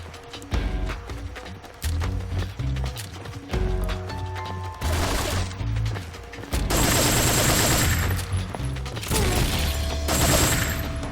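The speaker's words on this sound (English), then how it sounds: "I'm shooting a bridge. I'm wasting bullets." Gunfire from the Metal Gear Solid 3 video game, loud bursts of shots mixed with galloping clip-clop and dense game noise, continuous and close throughout.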